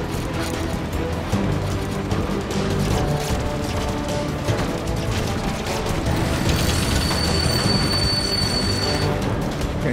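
Train rolling on rails in the Lego Movie video game, a steady loud rumble of wheels with a long metallic squeal rising near the end, game voices speaking over it.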